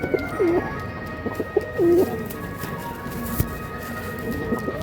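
Domestic pigeons cooing close by, a few soft rolling coos repeated in short phrases over a steady low background hum, with no talk.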